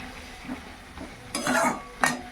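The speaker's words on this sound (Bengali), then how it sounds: "এই কচুটা এর মধ্যে ঢেলে দিয়ে আবার একটুখানি কষিয়ে নিচ্ছি" Spice paste sizzles in a pan with taro and potatoes as a utensil stirs it. Scraping strokes build into a louder frying burst, followed by a sharp final scrape.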